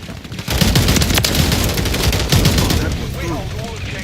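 Rapid bursts of automatic gunfire in a video game rattle almost continuously for about four seconds, loud and close, with a voice speaking over part of it.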